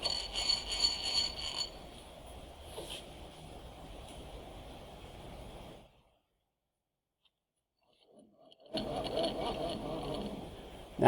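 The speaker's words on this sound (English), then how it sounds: "I'm still just machining within my vise" Milling machine end mill cutting a block clamped in a vise: a steady rasping, grinding cut with high whine runs for several seconds, stops into silence, then resumes loudly near the end.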